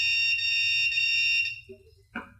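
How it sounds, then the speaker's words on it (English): Electronic beep from the receiver of a remote-controlled LCD electric dog training collar, a steady high-pitched tone held for about a second and a half, followed by faint handling noises. "The next function is a beep, same kind of purpose."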